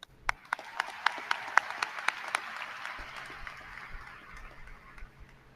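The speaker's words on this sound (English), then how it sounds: "I'd like us all to give a round of applause to the amazing teachers, advisors, counselors, coaches, and mentors that all got us here" An audience at a school show applauds teachers, advisors, counselors, coaches and mentors: sharp individual claps stand out over a swelling patter of clapping that gradually thins, fairly close and alone.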